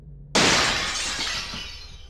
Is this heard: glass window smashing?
yes